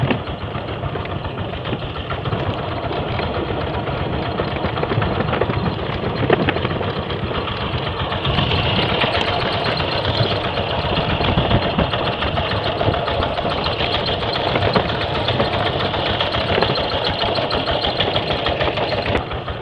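A walking tractor engine chugs steadily and loudly throughout while it is ridden along a scenic route, its close, continuous putter never letting up.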